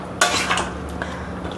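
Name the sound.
stirring chicken malai handi in the pot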